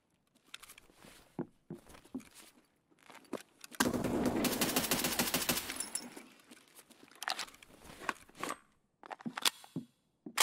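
A burst of STM-9 submachine gun fire in Escape From Tarkov, a dense rapid volley lasting about two seconds that stands out above scattered quieter game shots and footsteps.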